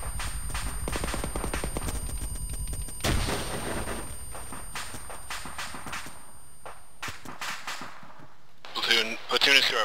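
Rapid bursts of gunfire in a military video game firefight, followed by a heavy explosion from a frag grenade and further scattered shots, with a voice talking partway through.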